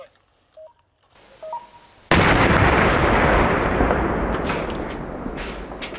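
A few faint electronic beeps, then a sudden loud blast from a controlled detonation of a 9N210 cluster submunition that rumbles and slowly fades, heard from a distance.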